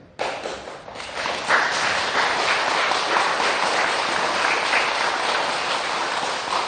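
Audience at a Buddhist dharma talk clapping for a monk, a sustained, even round of applause from a seated crowd indoors, steady throughout.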